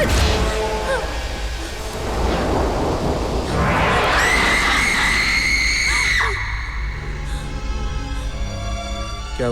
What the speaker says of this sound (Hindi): तुमने वो चीखने की आवाज सुनी?